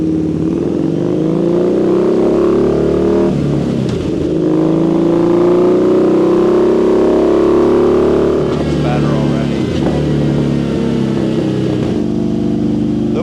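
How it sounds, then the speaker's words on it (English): Harley V-Rod motorcycle engine, fitted with performance parts, running steadily on a dyno, loud and close, with a few rises and dips in revs and voices talking over it. "bike's definitely running a lot better now that we got those issues resolved"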